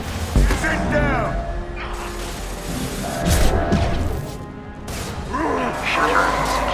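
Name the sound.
metal shutter closing mechanism, video game Mass Effect 2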